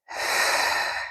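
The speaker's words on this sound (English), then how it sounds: "Keep those deep breaths going" One long, deep breath during a yoga practice, drawn in steadily and held close to the microphone for about a second, with no talking.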